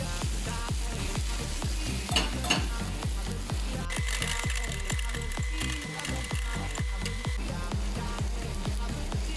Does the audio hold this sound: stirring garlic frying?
yes